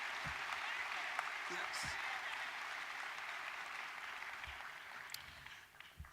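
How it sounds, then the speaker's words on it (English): A round of applause for a speaker at a memorial for a fallen Seattle Metro bus driver, a steady outdoor crowd clapping, fairly distant and soft, with a brief voice. "Another round of applause for Shaye, please."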